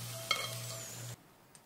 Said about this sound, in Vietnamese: Còn lại dầu trong chảo thì tiếp tục cho thịt vào chiên nè.